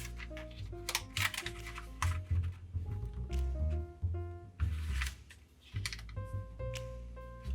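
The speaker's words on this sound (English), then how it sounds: "Now I'll valley fold in half along the vertical and the horizontal." Paper valley-folded in half and creased for a traditional origami crane, with close crinkling rustles, crisp taps and sliding scrapes coming in irregular bursts and short pauses.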